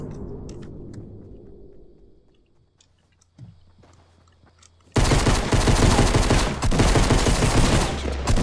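Pistol fire and other gunfire in a Fortnite match: scattered sharp shots fade out at first, then a dense, loud burst of rapid gunfire takes over the second half with no talk.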